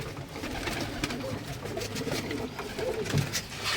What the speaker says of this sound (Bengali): এই খোপে মাশাআল্লাহ প্রত্যেকটা কবুতর মাশাআল্লাহ ভালো বড় হয়ে গেছে।